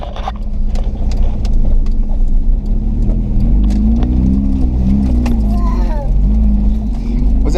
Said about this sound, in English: Yeah, this is just second gear. Once I get up into like fourth and fifth gear, it's so loud.